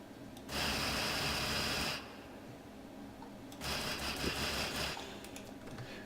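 Side-mounted M134 miniguns on a helicopter in Arma 3 firing in two long, continuous buzzing bursts, a high rapid whir with a brief pause between them, moderately distant and under faint background noise.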